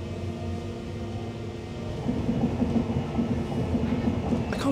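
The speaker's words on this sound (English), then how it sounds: "Nice, wonderful 6-car electric train." A six-car class 331 electric train runs along the line, a steady low rumble that grows louder about halfway through with rhythmic wheel clatter, heard from on board or close by without speech.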